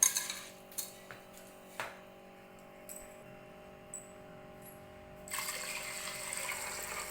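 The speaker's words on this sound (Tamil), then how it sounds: "அரிசி வேகிற அளவுக்கு தண்ணி விட்டுனா போதும்" Water pouring into a cooker over washed basmati rice for payasam, a soft steady splashing that starts after several faint clinks of a pot and utensils, then runs louder and continuous near the end.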